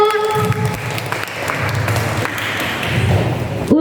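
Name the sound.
applause at Sunday school Easter event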